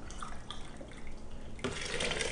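Warm water poured from a tap into a container while making coconut milk, a soft trickle that swells into a louder, fuller running stream toward the end.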